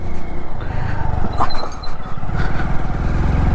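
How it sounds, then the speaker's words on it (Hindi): A motorbike rides in fourth gear, its engine a loud, close, steady low rumble that keeps a continuous throb from start to finish. "4 गियर लगा लिया भाई मैंने, देखो 4 गियर लग चुके हैं मेरी बाइक में"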